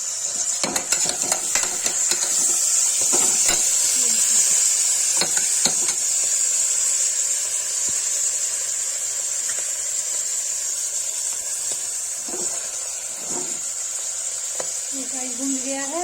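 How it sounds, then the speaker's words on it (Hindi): Saag greens with turmeric fry in a pan with a strong, steady sizzle, broken early by scraping stirs, and a voice speaks now and then over the cooking. "देखिए साग भून गया है।"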